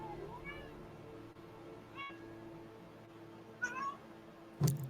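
A cat meows a few times at mid distance, the calls rising and falling, with a louder sharp cry near the end over steady room noise and faint background voices.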